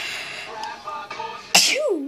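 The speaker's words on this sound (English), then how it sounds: "I sneeze, I'll try to pause it." A single sharp, loud sneeze bursts out near the mic partway through, following quiet talk over the faint background sounds of a Skate 3 game.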